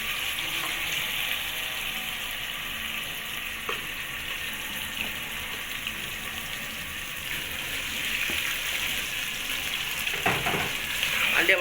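Minced beef frying in vegetable oil, a steady broadband sizzle filling the pan throughout, growing a little louder and busier toward the end with a few clinks of stirring.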